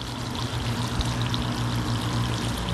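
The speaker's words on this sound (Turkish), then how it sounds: "Şorul şorul su sesi geliyor." A steady stream of water pours into a graduated measuring bottle, giving a continuous close splashing gurgle that stays even in loudness throughout, with no talking.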